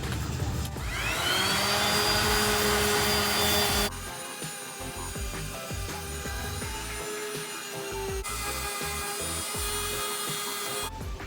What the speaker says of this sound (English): I'm just gonna sand the Bondo